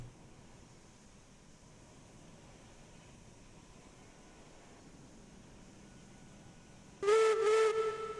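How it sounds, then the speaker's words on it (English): A steam locomotive whistle in the train game Railroads Online blows one loud, bright blast near the end after a quiet stretch of faint ambient hiss. "Whistle works."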